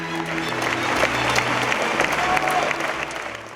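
Festival crowd's long ovation following a Gavras film premiere on the Greek crisis: thick, continuous applause from a large room, with some low voices and tones underneath.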